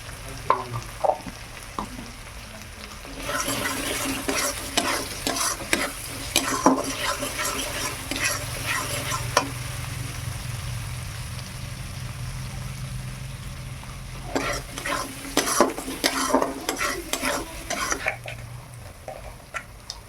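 Ginger and garlic sizzle and fry in a pan while a utensil stirs and scrapes against it, with bursts of stirring clatter over a steady frying hiss, close and fairly loud.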